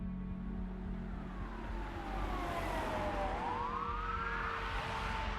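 Police car sirens wail as emergency vehicles arrive on a quiet residential street, a steady rising and falling tone over a constant rumble of traffic, growing louder and nearer.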